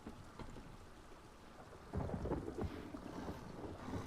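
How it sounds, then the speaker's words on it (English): Rain and thunder in The Elder Scrolls Online Morrowind arrive as a steady hiss of rainfall. Midway a deep thunder rumble swells in and stays heavy under the downpour, and no one speaks. "The rains have started."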